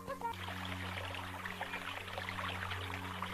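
Water flows steadily on both sides of a rock in a stream, a soft, even trickling wash. A low, faint hum runs beneath it the whole time.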